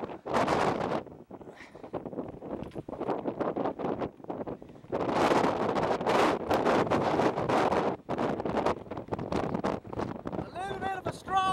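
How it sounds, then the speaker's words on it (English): Strong outdoor wind gusts buffet the microphone in loud, roaring bursts that rise and fall throughout, with a brief chirping sound near the end. "A little bit of a strong wind here."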